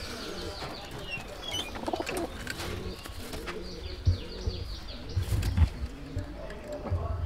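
Pigeons, among them a male, coo in a loft while wings flap now and then, with soft chirps and a low voice murmuring underneath throughout.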